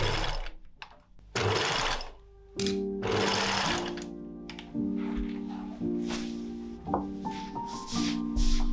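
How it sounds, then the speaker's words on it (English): A sewing machine stitches three layers of velvet stays together, running in repeated bursts with brief pauses between them, close and steady with no talking. "Then everything got sewn together again, so that we now have all 3 layers secured together."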